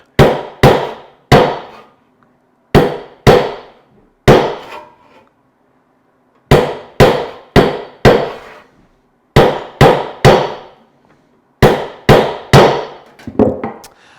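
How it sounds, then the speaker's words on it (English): Sharp metallic taps of a hammer dropped onto a hand saw blade land in short clusters of two or three, each ringing briefly before decaying, separated by pauses of silence. "I'm not beating on the saw, I'm just letting the hammer drop"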